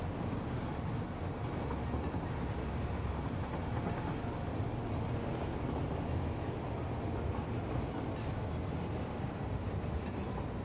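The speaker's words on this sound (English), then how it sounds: "A lot of trains." Trains in the factory-building game Satisfactory give a steady, low rumbling run with faint rail clatter, continuous and moderately quiet throughout, with no speech.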